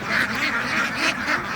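Hundreds of ducks at a beel in Chandina quack in a thick, continuous chorus as they go into their shelter. The calls come close together, loud and overlapping, with no talk.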